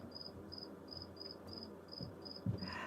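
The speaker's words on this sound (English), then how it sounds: "I love the sound of crickets, except when it's in my basement." Crickets chirp in a steady, evenly spaced rhythm, fairly faint against a quiet indoor background in a basement, with a soft knock near the end.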